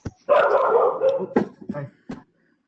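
A dog barks and yips in a few short bursts, close and loud, heard through a participant's microphone during an online community meeting with no one speaking over it.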